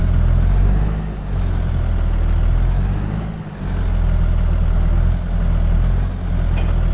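Steady low rumble of a tractor engine idling and running in the video game Farming Simulator 22, a continuous heavy drone with a brief dip midway and no talk.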